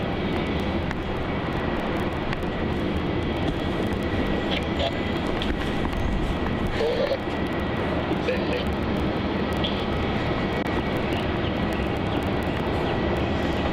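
A Virgin Australia Boeing 737-800, flight VA733 to the Gold Coast, powers up for takeoff on runway 34 at Melbourne Airport. Its jet engines make a steady, broad roar and rumble throughout, with faint radio chatter in the background.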